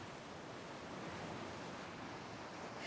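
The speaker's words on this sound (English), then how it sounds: "You can just hear the sound of the waves." Waves break on the shore at Hengistbury Head as a steady, faint wash of surf that carries on unbroken with no talking.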